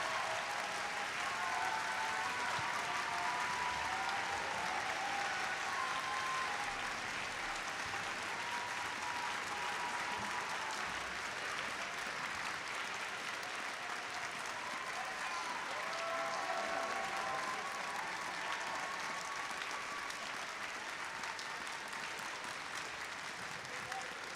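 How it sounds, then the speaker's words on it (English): Sustained applause from a large crowd at a FIRST Robotics district championship, honoring a longtime volunteer, dense and steady for the whole stretch, slightly distant, with voices faintly mixed in. "So give her a round of applause."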